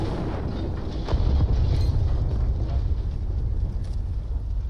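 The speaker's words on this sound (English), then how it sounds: "Everyone seems to be dazed by the explosion." Explosion in the video game Gerda: a continuous deep, rumbling roar that swells after a second and stays loud and dense throughout, with no voices.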